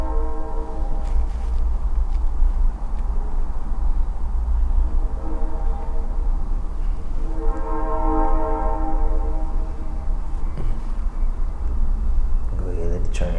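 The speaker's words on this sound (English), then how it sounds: "Go ahead, let the train go." A train rumbles past, loud and continuous, with long tonal horn blasts sounding around the middle and again near the end, while people talk over it.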